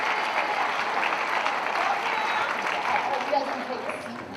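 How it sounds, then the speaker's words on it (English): A school winter concert audience applauds the elementary orchestra's violin section, a sustained, fairly loud wash of many hands clapping that tapers slightly toward the end. "Let's give our violins a round of applause."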